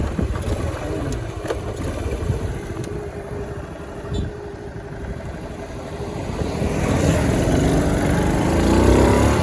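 A Honda Astrea 800 motorcycle engine drones steadily on a test ride, a continuous low rumble with wind noise that swells louder toward the end, heard from the rider's position.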